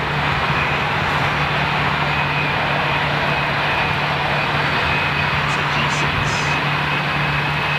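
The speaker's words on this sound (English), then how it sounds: "That's a proper, good-looking aircraft. That is Gulfstream, yeah?" A Gulfstream business jet of the Qatar executive flight at an airport, its engines a loud, continuous broadband roar that fills the whole stretch, with faint chatter from nearby onlookers.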